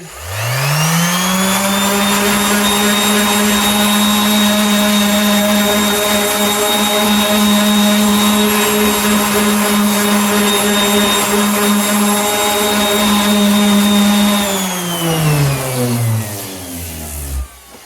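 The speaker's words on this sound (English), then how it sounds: "Let's go ahead and hit this with a little DA sander just to get the hairy stuff off the top of it." A small DA sander smooths the top of a CNC-routed wooden sign, giving a loud, steady motor whine that holds evenly for about fourteen seconds, then winds down as the tool is switched off.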